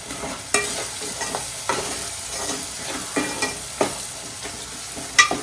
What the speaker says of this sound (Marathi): आता आपण त्याच्यात आपला घरचा मसाला हळद ते घालणार आहोत